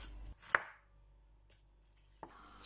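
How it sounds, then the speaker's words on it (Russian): A kitchen knife chops 250 grams of onion on a board, giving two or three sharp, separate cuts in an otherwise quiet room with no talk. "250 грамм лука мелко нарежу."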